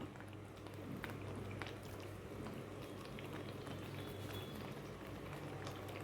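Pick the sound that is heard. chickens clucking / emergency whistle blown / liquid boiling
liquid boiling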